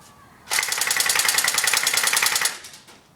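An Ares PPSh-41 airsoft submachine gun with a plastic body and a 2,000-round drum, running on an 8.4-volt battery, fires one loud, continuous full-auto burst of about two seconds at a high rate, with no talk over it.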